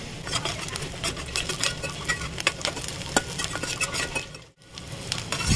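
Cashews and raisins fry in ghee with onion, stirred in a pan. A steady sizzle runs throughout, broken by scraping and light clinks of the spoon, with one brief drop-out near the end.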